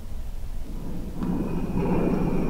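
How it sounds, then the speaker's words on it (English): Binaural field recording of stone being worked or scraped, played back as a dense low rumbling texture that swells and grows louder partway through, with no voices. "This is the sound of stone that we recorded."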